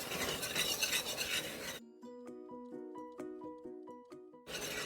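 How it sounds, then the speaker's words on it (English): A whisk works butter and three tablespoons of flour into a roux for bechamel sauce, giving a brisk, close scraping rasp for a couple of seconds before a gentle melodic tune takes over, then the scraping briefly returns. "Give this a quick whisk."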